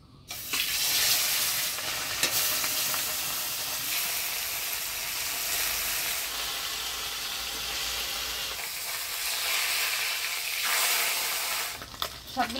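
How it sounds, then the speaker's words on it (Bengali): Pabda fish frying in hot oil, a dense, loud, continuous hiss and sizzle that holds steady throughout, close up with no voices. "এবার মাছগুলো ভাজি নেব"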